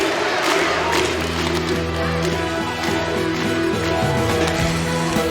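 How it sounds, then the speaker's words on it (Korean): A crowd at a volleyball match roars and chants for a team, a sustained, loud wash of voices in an indoor arena with rhythmic chanting and scattered clapping running through it. "팀을 연호하는 함성이 터져나온다"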